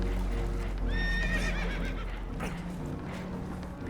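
Spooked horses from the video game Red Dead Redemption 2 let out a loud close whinny over a steady low rumble of water and boat noise, followed by faint clatter.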